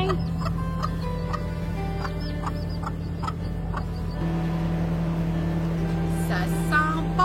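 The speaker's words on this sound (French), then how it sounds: "Maman poussin. Il grandit, petit poussin." A mother hen and her growing chick cluck and peep close by on a farm, short repeated calls over a steady low hum and rustle.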